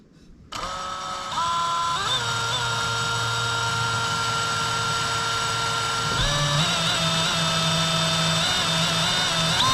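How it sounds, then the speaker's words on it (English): An electric drill bores a pilot hole into a Kubota mini excavator, its motor spinning up sharply and then holding a steady high whine, shifting pitch once as it bites into the metal, close and continuous. "Alright, so I'm going to drill a pilot hole"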